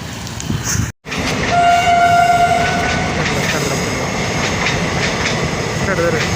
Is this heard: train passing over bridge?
yes